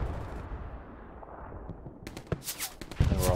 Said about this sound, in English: And we're also getting hit by artillery